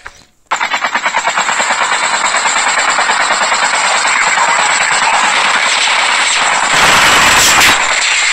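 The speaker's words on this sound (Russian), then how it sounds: "Вертолет четырехлопастевой" Four-blade helicopter in the Call of Duty Mobile game: the rotor starts abruptly and settles into a loud, fast, even chop with a whining engine, close and sustained throughout, with a brief burst of extra noise near the end.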